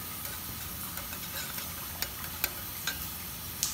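A spoon stirs Turkish-style coffee grounds in a pot on a Coleman camp stove, with faint, sparse clinks against the metal over a soft hiss, quiet and close.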